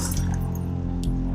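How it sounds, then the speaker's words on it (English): Glass falls and breaks in the horror video game P.T. (Silent Hills): a single brief, bright clink-and-shatter cuts through a low, steady ambient drone. "It falls, you hear the glass breaking, and you can hear"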